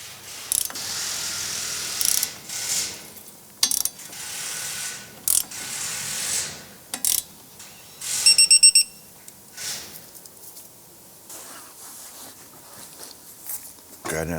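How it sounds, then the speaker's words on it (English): A torque wrench tightens the pinch bolt on a 2001-2007 Ford Escape's lower control arm to 52 foot-pounds, giving a loud, close burst of rapid ratcheting clicks amid scattered metallic clanks and handling noises. "Go ahead and torque down the pinch bolt to 52 foot-pounds."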